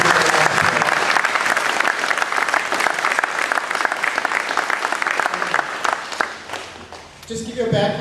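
Audience at a Seabee training event with Sea Cadets breaks into a loud, sustained round of applause that carries steadily for several seconds, thinning slightly near the end.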